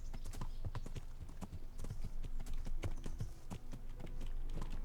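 Horse hooves clip-clopping in the medieval role-playing game Kingdom Come: Deliverance, a steady stream of overlapping hoofbeats from several horses at a trader, moderately close, with faint voices under them.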